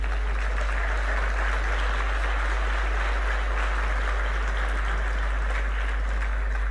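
A large crowd applauds in a dense, steady wash at the opening speech of the Buenos Aires Book Fair. The clapping holds at an even level throughout, over a loud, constant low hum from the hall's sound system.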